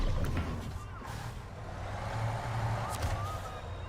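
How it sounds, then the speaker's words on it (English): A heavy truck in the video game SnowRunner rumbles at idle while loud high squeals from its brakes rise and fall twice over the engine noise. "I like how this thing has like super loud squeaky brakes too."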